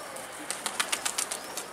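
A seagull flaps its wings in flight, a quick series of soft, airy wing beats that repeat steadily over the second half of a faint outdoor scene.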